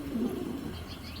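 Domestic racing pigeons, two hens and two cocks, coo softly at close range in a short, low, continuous murmur with no voices over it.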